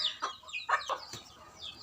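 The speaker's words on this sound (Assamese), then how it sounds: "আপোনালোকে এইকেইটাৰ মুৰ্গীকেইটাৰ সাউন্ড মানে পায়ে থাকে কিজানি একদম পিল পিল পিল পিল কৰি থাকে" Several domestic chickens clucking nearby in short, uneven calls, with soft scratchy background noise and no voices.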